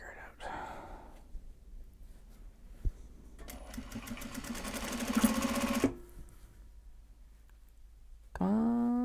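Sewing machine stitching Japanese fabric tote bags, a fast mechanical run building in the middle and stopping abruptly, with soft handling noises before and a rising whir at the end.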